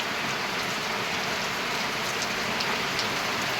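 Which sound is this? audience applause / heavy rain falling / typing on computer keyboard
heavy rain falling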